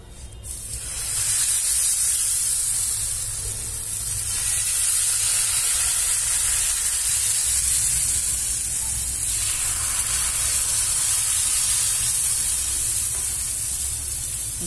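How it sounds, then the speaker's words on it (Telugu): Jowar flour dosa batter hisses on a hot pan, a loud continuous close sizzle that holds steady and unbroken with no talking over it. "దోశ ఇంకోటి వేసుకుందాం"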